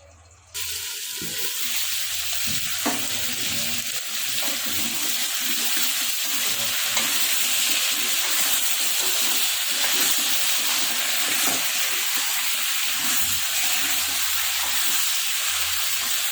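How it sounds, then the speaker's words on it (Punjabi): Amla (Indian gooseberries) cooking in a pan for pickle give off a loud, steady hiss and sizzle that runs throughout, with faint stirring scrapes underneath and no talking. "ਥੋੜੀ ਥੋੜੀ ਦੇਰ ਬਾਅਦ ਆਪਾਂ ਉਹਨਾਂ ਨੂੰ ਹਿਲਾ ਦਵਾਂਗੇ"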